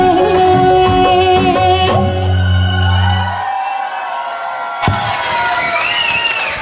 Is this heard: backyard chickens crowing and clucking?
no